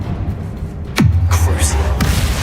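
A Confringo blast spell in Hogwarts Legacy lands as a sudden booming impact with a falling whoosh and a rumbling tail, followed by a second, softer hit a moment later.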